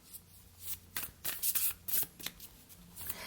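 Manifestation deck cards shuffled by hand in quick bursts of riffling and sliding, close and crisp, with brief pauses between passes and no talking.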